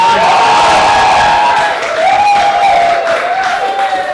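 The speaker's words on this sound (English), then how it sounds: "give me loads of applause." Theatre audience applause and cheering at an amateur comedy night at a village venue, a loud, dense roar of clapping with whoops that swells and holds steady throughout.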